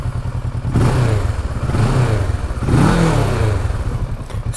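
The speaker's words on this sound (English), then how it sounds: "Let's just turn it on so you can hear how a Euro 4 engine should sound." Kawasaki Versys 650 (2018) with its Euro 4 twin engine idles close by, then is revved twice in smooth, rising swells before settling back to a pulsing idle.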